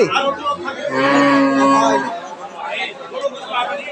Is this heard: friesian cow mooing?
yes